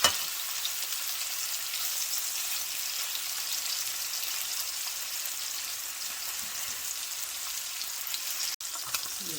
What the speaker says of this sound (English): let it sear for another minute on the other side